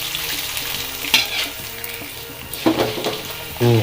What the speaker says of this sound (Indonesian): Sekarang kita akan panaskan dulu minyak ya sebelum kita menggoreng si kicimpringnya.